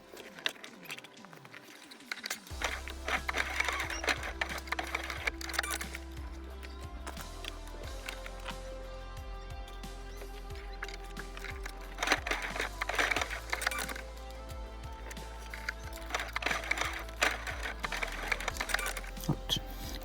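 Sewing machine stitching the lining fabric of a box pouch, starting after a short pause and running in a steady, fast mechanical rattle with brief speed changes throughout, close and continuous.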